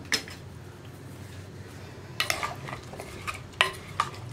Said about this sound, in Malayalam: ഇനി ഇതെല്ലാം ചേർത്തൊന്ന് ഇളക്കാം